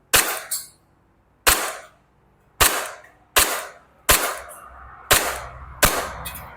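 An E&C Glock 19X airsoft BB pistol fires seven sharp, evenly spaced shots at targets, each a close, loud crack with a short decay and a quiet gap before the next.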